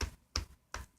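Three crisp taps in a steady left-right rhythm, quiet and close, mimicking footsteps.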